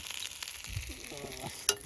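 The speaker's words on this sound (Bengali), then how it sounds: "জমিয়ে একদম লাল লাল করে কড়া ভাজা করে কাতলা মাছ খেলাম" Catla fish fries in hot oil, giving a close, crackling sizzle with soft stirring scrapes and one sharper pop near the end.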